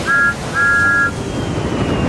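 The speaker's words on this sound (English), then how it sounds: "with a toot of his whistle" Thomas the Tank Engine's steam whistle in a video game remake gives two tooting blasts, a short one then a longer one, over steady rumbling background noise.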